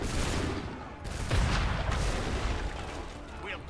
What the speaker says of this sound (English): I like how I get the cannon because I'm cool.